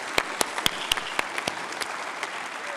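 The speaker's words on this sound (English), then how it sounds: "give them a big round of applause" A conference audience applauds a campaign team, sharp individual claps standing out over a softer, thinning bed of applause that fades toward the end, heard from a distance.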